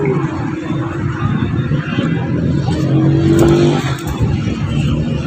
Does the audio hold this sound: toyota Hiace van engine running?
yes